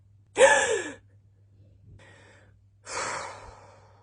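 A deliberate breathing demonstration, with one sharp, loud inhaled gasp, a brief faint pause, then a long audible exhale close to the microphone and no speech.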